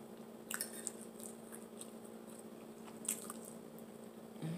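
Close, quiet chewing of rice, with soft wet squishes and small crunchy bites spaced irregularly over a low steady room hum.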